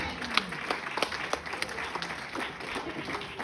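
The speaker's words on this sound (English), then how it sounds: "Give Jesus a good clap." A church congregation claps for Jesus during a sermon, a steady wash of applause filling the space at moderate level, with a faint voice now and then beneath it.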